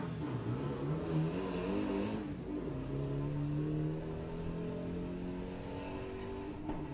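A Volkswagen Beetle drag race car launches off the line at a Bug Jam qualifying round, its engine revving hard and climbing through gears with a loud, sustained roar that stays close throughout.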